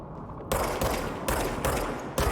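Bursts of loud, close gunfire in the video game Control, with four or five sharp volleys separated by brief dips after a quiet opening.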